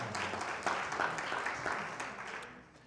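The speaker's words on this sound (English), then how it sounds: "You can clap for that one." A seated audience at a senior-living forum on federal and state policy changes claps briefly, a soft, fairly distant patter of applause that fades out over a few seconds.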